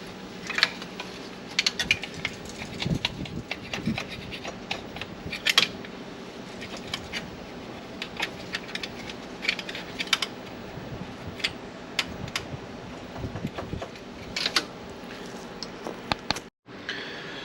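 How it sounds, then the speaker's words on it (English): Wire brush scraping an old gasket off a Ford Mustang thermostat housing, a series of quick irregular scratchy strokes and light clicks close up, with short pauses between bursts. "Just use a wire brush."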